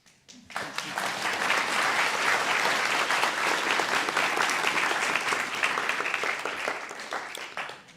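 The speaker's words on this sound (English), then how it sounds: "How about another round of applause for class 1022" Audience at a Guide Dogs for the Blind class graduation applauds class 1022, a dense sustained round of clapping starting abruptly after a brief pause and tapering slightly near the end.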